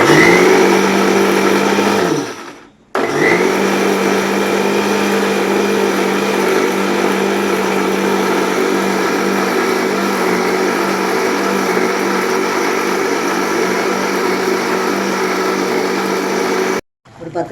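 A mixer grinder whirs steadily as it grinds coriander, fennel, cloves and cardamom into a paste for restaurant-style channa masala. The loud motor runs continuously, stops briefly near the start, restarts and runs on, then cuts out again near the end.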